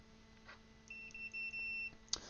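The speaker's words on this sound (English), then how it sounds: "So that's the beep indicates that there's electrical continuity" A multimeter set to continuity mode gives a thin, high electronic tone that starts and stops in several short beeps, then holds as one steady beep. The beeps sound close but quiet, with a faint hum underneath and a small click at the end.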